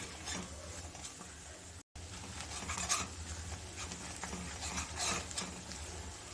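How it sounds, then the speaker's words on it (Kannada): Gram flour roasts in oil in a pan over a low flame, a faint dry scraping and rustling as it is stirred, continuous with a brief gap, close and quiet. "ಸಿಮ್ಮಲ್ಲಿ ಇಟ್ಕೊಂಡು ನೀವು ಹುರ್ಕೊಳ್ಳಿ ಚೆನ್ನಾಗಿ ಗಮ್ ಅಂತ ಸ್ಮೆಲ್ ಬರಬೇಕು ಅಲ್ಲಿವರೆಗೂ ಹುರ್ಕೋಬೇಕು"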